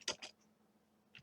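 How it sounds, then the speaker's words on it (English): Keys on a computer keyboard are tapped, a few quick close clicks in a small burst, then a short pause before another keystroke. "Type in download"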